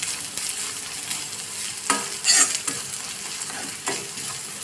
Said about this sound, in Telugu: ఇవి కాస్త ఫ్రై అవ్వాలండి.